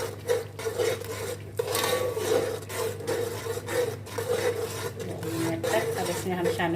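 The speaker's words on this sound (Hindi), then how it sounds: "अब हम इसको चलाएंगे।" Onions, crushed by hand, stirred into an egg and chickpea curry in a pot, giving a steady scraping and rubbing of a spoon against metal over a low background hum, continuous with brief clinks.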